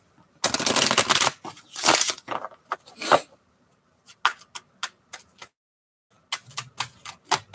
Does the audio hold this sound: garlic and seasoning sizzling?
no